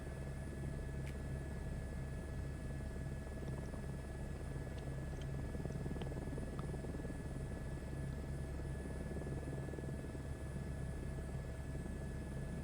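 An Airbus H125 helicopter lifts off with a steady, loud rotor drone and turbine whine that holds constant throughout, no voices heard.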